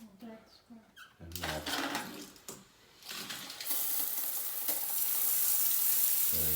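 A bidet sprayer on a toilet, set to feminine wash, hisses out a steady, broad rush of water that starts partway through and holds to the end, after an opening stretch of someone talking.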